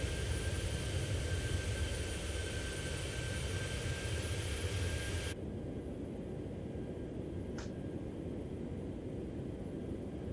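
Simulated Boeing 737-800 on final approach into Dubai, a steady broadband engine and wind roar that drops in level partway through, with a brief faint chirp later; no talking.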